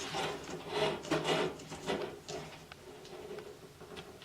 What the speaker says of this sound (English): Right now I'm screwing in a new light bulb.